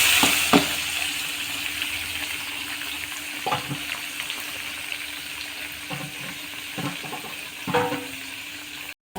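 Food sautés in a pan with a soft, even sizzle, punctuated by a few stirring knocks and scrapes, close by and fairly quiet, ending abruptly.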